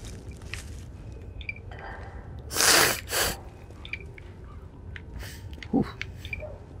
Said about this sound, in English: I'm sniffing so much I smell, sound like a coke addict